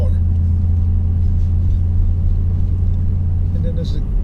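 A 2018 Toyota Tundra exhaust fitted with a BAmuffler system gives a deep, steady, throaty rumble close by, low and continuous with no high-pitched whine.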